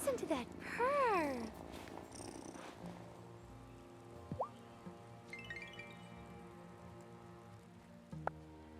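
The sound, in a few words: cat purring in Wylde Flowers video game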